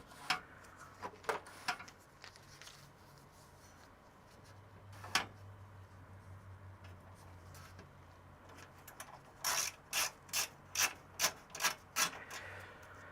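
A screwdriver working loose four screws on the power switch bracket of an old computer, heard as scattered ticks and scrapes and then a close, rhythmic series of clicking ratchet-like turns.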